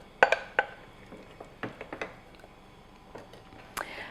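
Canned butter beans tipped into a dish for a Pastourma Al Forno bake, giving a few clinks of metal and glass against the dish and soft wet plops, close and quiet.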